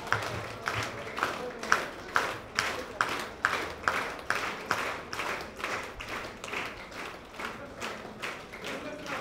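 A hall full of women at a community gathering claps in unison along with an instructor, giving a steady run of about twenty evenly spaced claps at moderate loudness.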